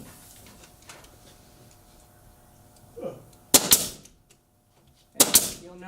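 A pneumatic nail gun drives nails into wooden roof rafters with two loud, sharp bursts, each a quick double shot, close by, separated by quiet moments and a soft thud.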